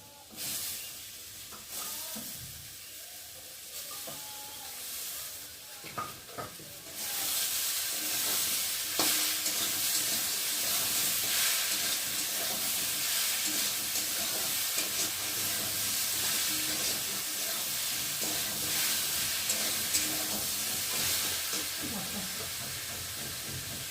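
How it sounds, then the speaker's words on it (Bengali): Boiled soybeans and fried potatoes sauté with spices in a pan, a steady loud sizzle and hiss broken by scraping stirring strokes, quiet at first before the frying swells. "আর এখন এই যে সেদ্ধ করে রাখা সয়াবিনটাকে দিয়ে ভালো করে কষিয়ে নিই।"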